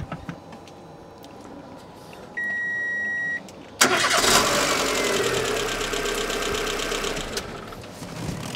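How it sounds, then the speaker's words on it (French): A Renault Wind car, a damaged salvage vehicle, is cranked and fires up at once with a brief starter whirr and a click, then its engine settles into a steady, close idle with a faint beep, no voices. "On la démarre et..."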